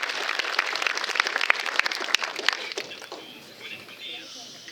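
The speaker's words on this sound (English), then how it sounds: "Let's give them a big round of applause." Audience at a baseball hall of fame induction ceremony gives a burst of applause, dense clapping fading out after about three seconds into quieter room noise.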